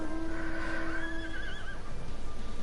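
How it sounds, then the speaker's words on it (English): An ice horse mount in a PS4 video game gives a clear whinny. The neigh is close and rises and wavers over a steady game soundtrack hum, with no talk over it. "So we've got Ice Horsey."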